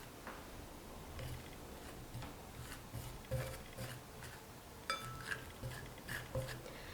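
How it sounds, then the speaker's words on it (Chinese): Yam paste stirred while flour is poured in, heard as faint, irregular clinks and taps of a utensil against a bowl under a quiet room background. "边倒边搅拌"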